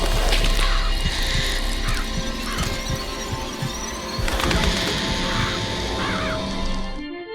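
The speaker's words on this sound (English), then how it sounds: "Press to summon murderous crows." Swarming crows summoned in the video game Bioshock Infinite, harsh caws and squawks repeating over a dense, loud game soundscape with rumbling effects throughout.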